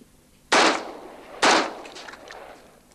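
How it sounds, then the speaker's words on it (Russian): Two sharp, loud gunshots ring out about a second apart at a riot police tactical shooting competition, each a close crack with a short echoing tail. "Бойцы ОМОНа сегодня провели соревнования по тактической стрельбе."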